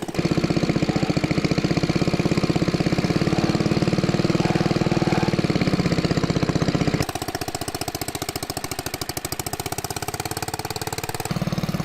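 A homemade tractor motorcycle engine runs steadily with a loud, rough, knocking mid-pitched chug, its tone shifting partway through as the clutch is let out and the load changes.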